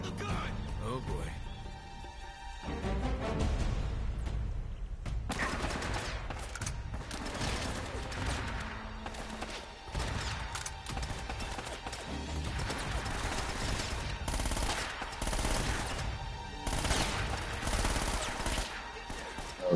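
A mounted gun in Uncharted fires in dense, sustained bursts amid loud action noise that fills the whole stretch, with shouted voices mixed in.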